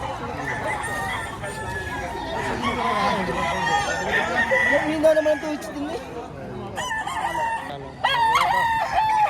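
Chickens cluck and roosters crow repeatedly in a busy poultry market yard in Padre Garcia, Batangas, with people talking over the birds.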